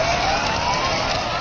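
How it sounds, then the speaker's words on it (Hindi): An ambulance siren wails steadily at a street protest, loud and sustained throughout a brief moment, with no talking. "आवाज थी तो बस एम्बुलेंस के सायरन की।"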